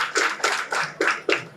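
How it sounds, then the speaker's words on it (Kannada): Applause at a pre-KG and babysitting centre's building inauguration ceremony, heard as several rhythmic bursts of clapping hands in quick succession, moderately close. "ಈ 2 ಪ್ರತಿಭೆಗಳಿಗೆ ದೊಡ್ಡ ಚಪ್ಪಾಳೆ ತಟ್ಟೋಣ."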